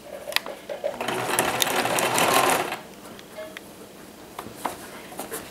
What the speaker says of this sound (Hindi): इस तरह से सिलाई लगाएंगे।